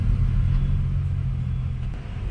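Heavy night traffic jammed near Pari Chowk in Noida, Uttar Pradesh: a deep steady rumble of idling and slowly moving car engines heard from inside a vehicle, close and continuous, with no talking.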